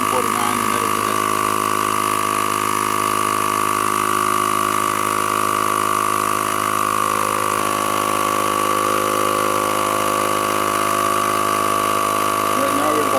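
An air compressor steadily inflates a car's front tire after a plug repair, giving a loud, constant mechanical drone with a sustained whine that does not let up for the whole stretch.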